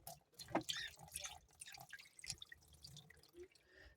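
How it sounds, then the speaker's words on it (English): Tap water from a kitchen faucet splashing and dripping into a glass jar of sprouting seeds, quiet, uneven trickles and drips with small bursts of splashing, fairly close and alone. "And I just put water from my faucet."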